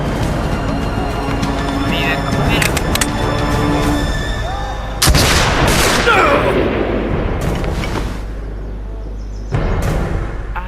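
Gunfire in the video game Assassin's Creed Brotherhood, loud dense bursts of shots and booms layered over a busy game soundtrack, with sudden sharp blasts near the middle and the end.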